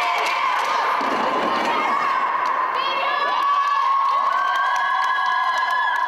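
Girls' team from Meliuz cheer on their boys' team at a sports match, a loud, continuous crowd of young voices shouting and whooping, with sharp whistle-like cries rising over the steady roar.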